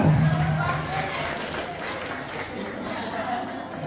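Steady applause from an audience fills a school prize ceremony for a student winner at an essay-writing and speech competition, a continuous wash of clapping and crowd murmur with a voice over it at the start.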